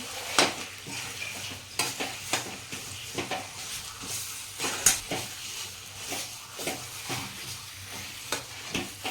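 Dabeli spice mixture stirred in a pan, with repeated soft scraping strokes over a low sizzle, close and fairly quiet throughout.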